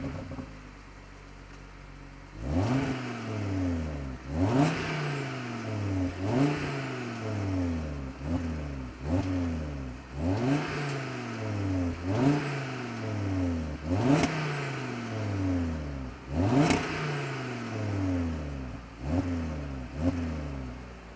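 Audi RS 3 revved repeatedly, about eight sharp throttle blips that climb and fall back in a steady rhythm, exhaust clear and moderately near with no talk.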